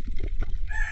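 A chicken clucks close by in a short, loud burst outdoors near rocky water.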